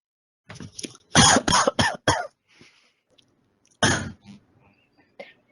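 An elderly patient in a care hospital coughs in a burst of several harsh, loud coughs, followed by a pause and another single cough with faint throat noises, close by.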